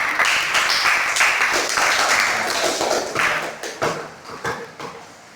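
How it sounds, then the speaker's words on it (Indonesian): A classroom group claps hands together in a fiqh lesson, a dense burst of applause that thins out into scattered, uneven claps toward the end. "Tepuk tangan."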